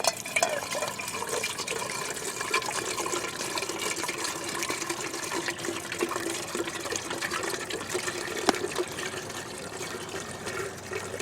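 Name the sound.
water poured from canteen into coffee pot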